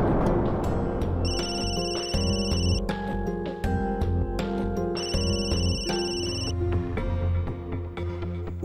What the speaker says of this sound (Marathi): कोणाचा फोन वाजतोय?